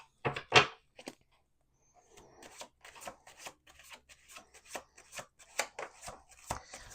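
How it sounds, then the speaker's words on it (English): Tarot cards being shuffled and handled on a table: a couple of sharp riffles near the start, then a run of soft rubbing and light tapping, close and quiet with no talk. "1 more shuffle."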